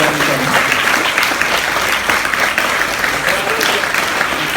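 Students clapping together at an Urdu high school welcome event, a dense, steady wash of applause that fills the space evenly and stays loud from start to finish.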